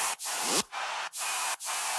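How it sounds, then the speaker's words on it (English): Bursts of bright hissing white noise effect in an electronic dance music drop swell and cut off in a rhythmic pattern, four chopped sweeps with brief gaps between them. "white noise"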